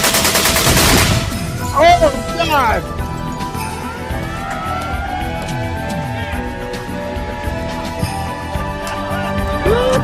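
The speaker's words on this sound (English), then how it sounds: "she's on the ground and she's shooting a semi-automatic" Semi-automatic weapon fire from a woman shooting on the ground: a loud, dense burst of shots up front, followed by excited shouting and lingering outdoor echo.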